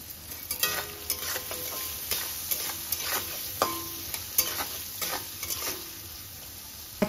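Mixed vegetables with turmeric and salt are stirred in a pan for a mixed vegetable dal, with a soft continuous sizzle broken by repeated scraping spoon strokes at an uneven rhythm, close by and with no talking.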